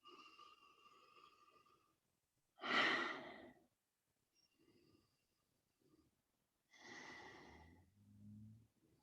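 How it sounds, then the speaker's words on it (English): A few slow, deep inhales follow hands being rubbed together: two longer breaths and some softer ones, near and quiet, separated by silent pauses. "you'll rub your hands together and then take 3 deep inhales"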